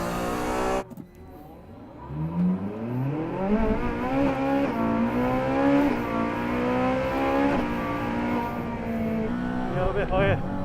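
Honda NSX race car accelerating hard on a racing circuit, engine note climbing steadily through gears in a loud, sustained, near wail with wheelspin intensity, continuous for about ten seconds.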